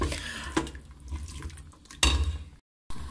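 Water pours from a tap into a cooking pot for berkoukes, splashing and running in near, loud bursts with clinks of the pot, broken by a brief silence before resuming.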